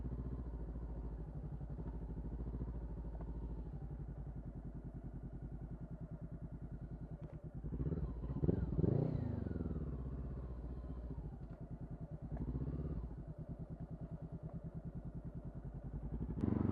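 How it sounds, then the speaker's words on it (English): A Honda CB500 motorcycle rides along with a steady low engine drone, close and continuous, its pitch rising and falling briefly midway as the revs change. "That's the Honda CB500, which I've brought as my new main bike."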